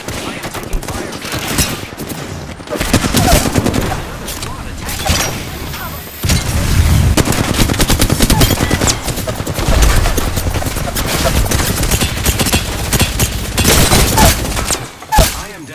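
Gunfire in Apex Legends, a loud, dense run of rapid automatic shots and bursts that continues almost without pause, with a short gap near six seconds.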